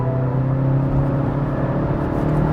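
A BMW 330i M Sport in sport driving mode accelerates hard, its engine a steady, loud droning hum from inside the cabin with a low road rumble beneath.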